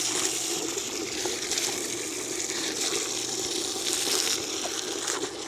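A submersible sump pump drives water out through a 10 ft hose, making a steady close rushing gush of flowing water that continues unbroken and fairly loud, with no talking.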